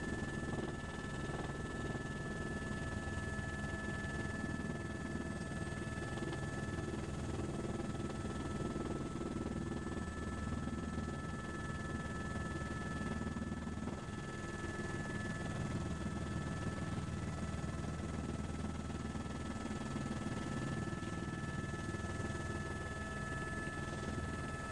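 Helicopter fitted with a Sandel ST3400H HeliTAWS terrain warning system, flying near hillsides and coming in to land; a steady, loud rotor and engine drone fills the whole stretch with a constant whine, no talk.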